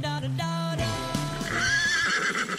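A horse neighs loudly and close in a long descending whinny with harmonic, wavering pitch, followed by a higher trailing squeal, played as a sound effect with no talk over it.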